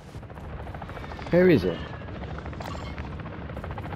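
A helicopter in the video game Call of Duty DMZ drones steadily in the background while a player's voice speaks briefly over it, with a short burst of louder game sound in the middle.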